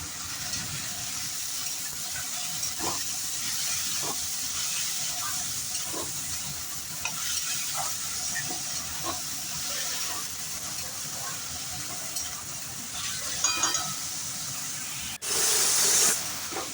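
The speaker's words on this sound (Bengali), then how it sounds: "সবজি কেটে রেখেছিলাম পেঁয়াজ ক্যাপসিকাম গাজর এগুলোও দিয়ে ভালো করে এটাকেও একটু ভেজে নেব" Chicken frying with onion, capsicum and carrot, a steady close hiss and sizzle with scattered stirring taps throughout, ending in a sudden brief louder burst of spatter.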